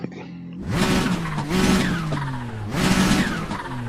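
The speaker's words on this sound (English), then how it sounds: "Can you hear the turbo?" An Audi R8 Roadster in a racing game revs and accelerates repeatedly, engine pitch sliding down between bursts with a whooshing turbo hiss layered over the roar.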